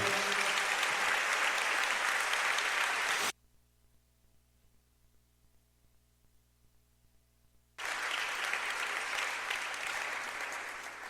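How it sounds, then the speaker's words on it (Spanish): A church congregation claps in applause during a service, a dense burst of clapping that stops abruptly into near silence, then resumes just as full and gradually tapers. "Dale un aplauso al Señor, Él es digno de la gloria."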